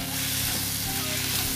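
Masala with tomato and salt being sautéed in a pan for dum chicken porotta gives a steady, close sizzle and frying hiss that runs unbroken, with no voices.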